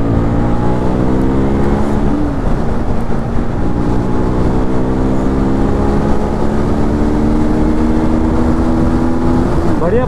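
A Pulsar NS200 and a BMW RR310 motorcycle ride along damp village roads, their engines giving a loud, continuous drone whose pitch climbs and shifts as they accelerate, with wind rush throughout.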